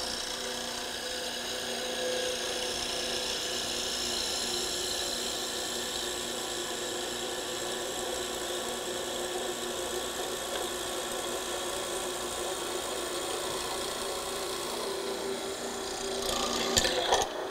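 A benchtop hollow chisel mortiser grinds steadily as it cuts a mortise into wood, a continuous close motor-driven rasping hum with a brief rattle near the end, no talking.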